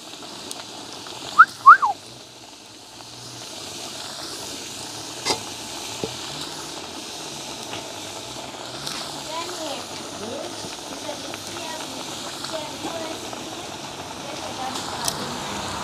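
Crabs fry in a pot full of smoking-hot oil, a soft continuous sizzle and hiss with a few sharp clicks and pops, while someone talks over it.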